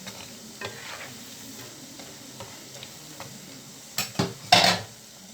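Butter murukku made from ration rice flour frying in hot oil, a faint steady sizzle with light ticking clicks, then a few louder clatters of utensils near the end.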